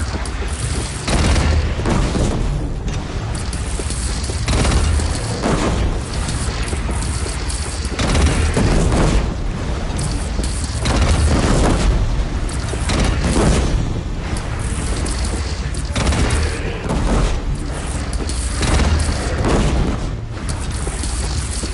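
A cannon fires during a battle in the video game Horizon Zero Dawn Remastered. Loud, repeated booms and crashes come every second or two over a dense, continuous layer of combat noise.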